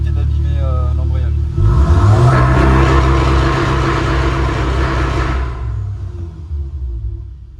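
A Volkswagen Golf 7R engine held on the launch-control rev limiter, the car not pulling away: a loud, steady, rumbling high-rev roar that builds sharply, holds for several seconds, then drops back to a lower idle.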